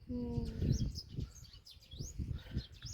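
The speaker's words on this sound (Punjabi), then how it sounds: "ਅਰੇ ਆ ਚਿੜੀ" Sparrows chirp in quick, high, scattered bursts at moderate distance, with a brief low tone and some rustling early on.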